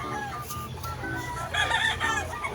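Fighting roosters clucking and calling during dry feeding, several birds heard at close range with overlapping clucks and short crowing calls, no talk.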